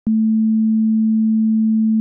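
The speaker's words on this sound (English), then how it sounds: "when we added 2 sine waves together, we got something that was definitely not 2 sine waves" A loud, steady low electronic tone from two sine waves added together and clipping, made in ChucK, holds unbroken for about two seconds, starting and ending with abrupt clicks.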